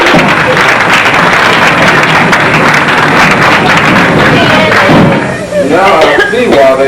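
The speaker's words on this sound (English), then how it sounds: "Let's give them a big round of applause." Audience applause and cheering fill a theatre or club after a stage act, dense and continuous for several seconds, then briefly dipping before a fresh burst of clapping with voices mixed in.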